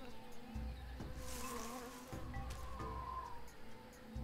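Buzzing bees in the video game Tales of Monkey Island, a continuous droning insect hum with intermittent game sound effects layered on top.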